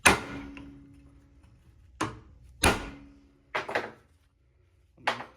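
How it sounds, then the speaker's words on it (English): A U-joint cap is hammered out with sockets held in a vise, five separate sharp metallic impacts with pauses between them, close and clear, with no talk. "set it on something solid and start knocking the crap out of it"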